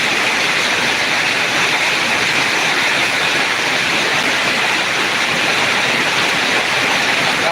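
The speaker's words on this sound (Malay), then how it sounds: "Hujan lebat guys." Heavy rain pours near Masjid Selayang as a dense, unbroken hiss that stays loud and even throughout, with no voices over it.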